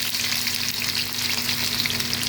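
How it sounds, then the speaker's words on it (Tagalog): Bagoong shrimp paste sautéing with onion and garlic in a pan, a steady dense hiss and crackle of frying, close and continuous without speech. "Magisa na ako sang bagoong."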